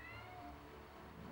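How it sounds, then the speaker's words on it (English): A house cat yowls once in the background, a drawn-out, falling meow that is faint and distant, trailing off into quiet room tone. "my cat screaming in the background apparently"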